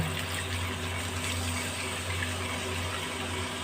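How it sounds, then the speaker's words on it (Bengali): Water pours steadily into a cooking pan of potol posto, a Bengali pointed gourd and poppy seed curry, making a continuous close gush with no talk. "এবার আমি এই বাটির এক বাটি জল দিয়ে দেবো"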